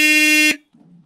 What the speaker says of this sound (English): See if the horn still honks.